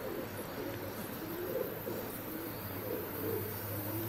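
Pigeons coo in a steady low murmur outdoors as Greek diving pigeons take off and scatter overhead, with wind-like broadband noise and no talking.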